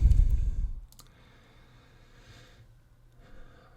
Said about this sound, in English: We're going to click on that